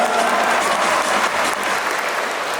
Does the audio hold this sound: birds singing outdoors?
no